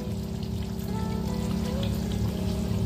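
Ghee poured into a pot of chicken biryani with water and shahi garam masala, a steady close liquid pour and trickle running without pause under a low cooking hum.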